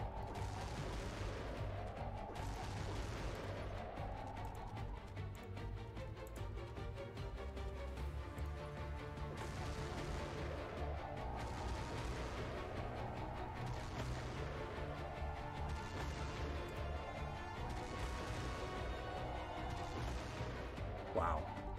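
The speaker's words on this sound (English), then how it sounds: "Is everybody shooting?" Soldiers' gunfire in the tactical video game Xenonauts 2, heard as repeated shots and crashing impacts over a steady droning game soundtrack with rising tonal sweeps, moderately loud and continuous.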